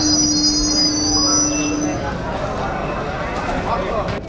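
Passenger train pulling out of Krishnanagar City Junction, with high wheel squeal ringing early over a loud, steady rolling rumble that carries on after the squeal fades.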